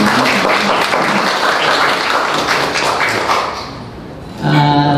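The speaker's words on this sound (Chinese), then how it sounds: "也给他鼓掌一下啊" Guests at a ceramics exhibition opening reception clap in a thick, close round of applause that fades after about four seconds, followed by a voice starting to speak.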